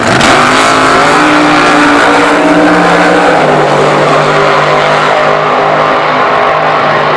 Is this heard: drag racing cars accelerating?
yes